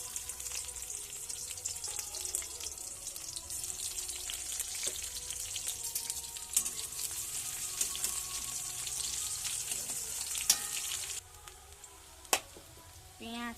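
Sliced onion hissing and crackling in hot oil in a kadai, the start of an aloo dum, a loud steady sizzle that drops to a quieter fry near the end with a few clinks.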